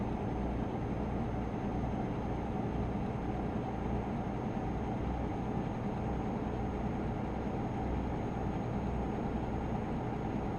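Heavy truck engine labouring under a convoy load in a PC truck-driving game, a steady low droning rumble that holds at an even level for the whole stretch with no talk over it.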